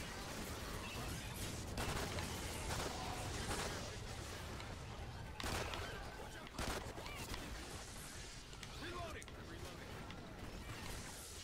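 Gunfire in Call of Duty Ghosts Extinction, scattered sharp shots and bursts mixed with game noise, sounding under a player's talking throughout.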